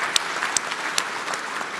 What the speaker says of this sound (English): It's always good when people applaud for you for how old you are.